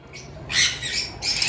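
Conure parrots in an aviary setup give loud, harsh squawks in two bursts, a longer call followed by a brief gap and another, close and with no talk.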